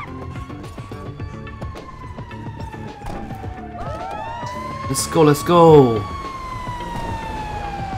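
In the GTA5 video game, a fire truck siren wails in long rising and falling sweeps that carry throughout, with excited voices shouting and a burst of game action over it.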